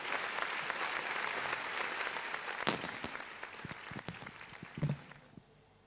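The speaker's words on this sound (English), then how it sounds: "Big applause for Pak Sancoyo." Steady applause from an audience at an international halal dialogue conference, fairly close and even, thinning out near the end, with a few handling knocks and a brief voice before it stops.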